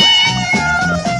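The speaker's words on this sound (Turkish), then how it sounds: "Lan kedi ya." A cat lets out a couple of clear, close meows, tonal and slightly drawn out, in quick succession within about a second.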